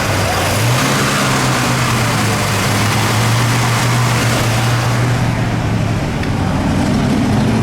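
A 1969 Mercury Cyclone GT's 390 V8 engine roars as it's revved, the pitch climbing and holding before easing off, loud and close with a rough, throaty rumble.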